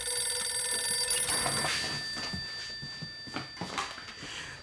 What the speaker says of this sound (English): the phone began to ring, like an angry alarm clock way too early in the morning